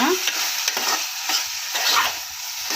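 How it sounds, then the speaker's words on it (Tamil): Ridge gourd fries in a pan with chilli powder stirred in. A steady sizzling hiss is broken by rhythmic scraping strokes of a spoon about every half second, close up and without speech. "நல்லா கிளறிடுங்க"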